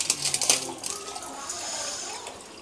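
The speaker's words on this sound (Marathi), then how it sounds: "आणि हे तेल आहे ना, थोडं मी आधी ओतून घेणार आहे, म्हणजे टोपामध्ये एका." Heated oil pours into a pot for amla pickle, a brief close splashing, trickling pour that tapers off within a couple of seconds.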